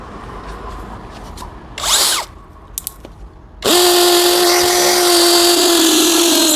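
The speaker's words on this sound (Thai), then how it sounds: "ทดสอบเจาะปูนนะครับ แบบเต็มประสิทธิภาพเลย เจาะกับดอกยาวนะครับ" STR 21V cordless brushless hammer drill boring into hard concrete with a long bit, a loud steady whining grind that runs for about three seconds after a few short test bursts, close up with no talk.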